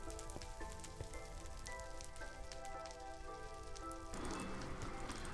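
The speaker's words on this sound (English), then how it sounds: "that is just because there's rain going on apparently" Soft, steady rainfall hissing in the background in a modded Minecraft game, with faint tonal music or hum layered over it and a brief shift in texture near the end.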